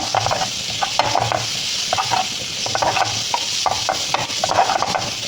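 Green chillies fry in hot oil while a spoon stirs and scrapes them around the pan for an egg chutney, a steady close sizzle broken by rhythmic scraping strokes, no voices.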